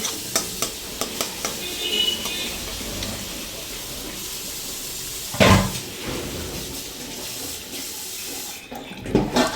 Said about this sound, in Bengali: সর্ষে বাটার জলটা দিলাম কাঁচা লঙ্কা দিলাম দিয়ে নেড়ে চেড়ে